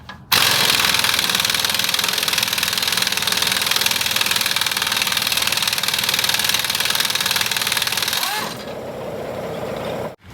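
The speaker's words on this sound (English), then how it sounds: "you can hear my air compressor's working overtime" A 30-gallon air compressor runs hard in a garage, a loud, steady, rapidly knocking mechanical drone close by that drops to a lower, quieter hum near the end before cutting off.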